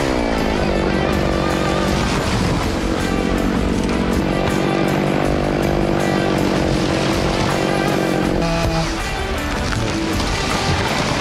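A chainsaw cutting marketable timber along a logging road, running loud and close with a sustained high whine, changing pitch as it bites into the wood and easing briefly toward the end.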